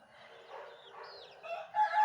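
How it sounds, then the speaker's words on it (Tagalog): Chickens in a rural yard on a hot day give short clucks and then a rooster's crowing call that rises toward the end, moderately close, with no talk. "Tapos yung manok doon"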